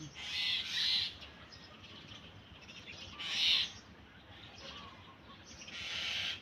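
Several birds in a mulberry tree beside a house call loudly in bursts of shrill, squawking cries, with quieter chirps and rustling between them, outdoors and fairly close.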